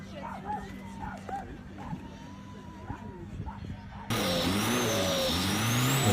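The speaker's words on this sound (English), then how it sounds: "Looks like he put a car turbo on a boat." A boat engine fitted with a car turbo revs up loudly and close, a rising, droning roar that cuts in abruptly after several seconds of quieter background sound with people talking.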